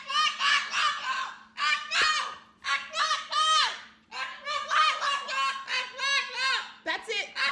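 An agitated bird gives loud, harsh honking calls in rapid bursts throughout, close and dominant, with short gaps between volleys.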